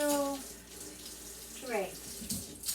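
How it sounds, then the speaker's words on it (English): Water from a kitchen sink tap running briefly into a bowl for grape pudding, a soft trickle and splash that stops, then a short gurgling pour, quiet and close. "we're going to put 3 tablespoons of water in this"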